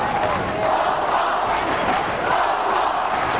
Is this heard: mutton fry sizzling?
no